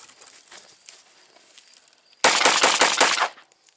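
A Ruger 9E pistol fires during a reliability test: after quiet low rustling, a loud close burst of about six rapid shots lands in quick succession, then stops.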